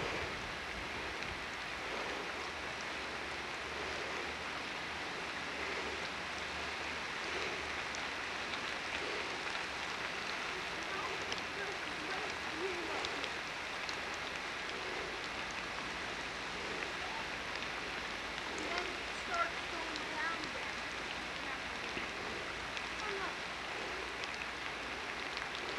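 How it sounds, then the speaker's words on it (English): A rain storm in Maui, Hawaii, recorded as a steady, fairly faint wash of hiss and patter that stays even and unbroken from start to finish, with no voices. "This is being taken in the storm. Rain storm."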